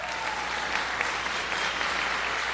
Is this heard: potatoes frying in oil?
no